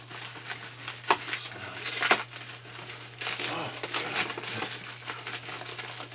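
Saran plastic wrap crinkles and crackles loudly up close as it is cut and pulled off the box of a GE General Electric 3-5280B unit, with a steady low hum underneath and a person talking at times.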